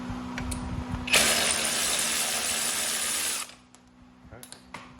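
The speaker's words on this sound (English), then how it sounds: "So I'm gonna go ahead and remove this castle nut right here, 14 millimeter" A tool works on a 14 mm castle nut on the front end of a 2022 Kawasaki KFX 50 youth ATV, giving a loud, steady mechanical whirr for about two seconds amid quieter clicks and shop noise.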